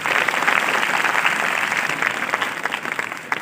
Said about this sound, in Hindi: पुनः एक बार जोरदार तालियां।